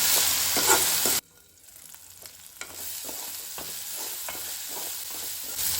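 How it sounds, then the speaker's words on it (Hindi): Tomato and long-sliced green chillies fry in tempering oil for a Goan green chilli curry; a loud sizzle cuts out suddenly, then quieter frying resumes with a run of soft spatula taps and scrapes. "अब इसे जो है ना हमें टमाटर मेल्ट होने तक थोड़ा सा पकाना है"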